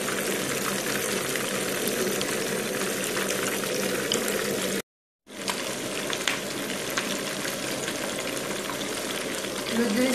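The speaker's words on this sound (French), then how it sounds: "Une fois l'huile bien chaude, on va y ajouter notre poisson." Fish fries in very hot oil with a dense, loud, continuous crackling sizzle that cuts out briefly and then resumes just as strongly, close by and steady.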